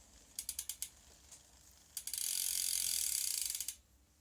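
Clicks from turning a bicycle gear adjuster, first a quick run of five crisp ratcheting clicks, then after a pause a dense rapid stream of fine ticks for about two seconds, close and quiet.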